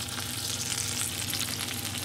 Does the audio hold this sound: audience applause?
no